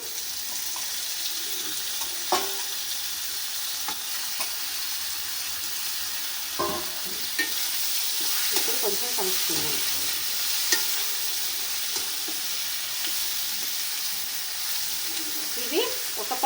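Steady sizzling of chicken liver and gizzards frying in a pan, with occasional stirring scrapes and clinks, fairly loud and continuous throughout with no talking.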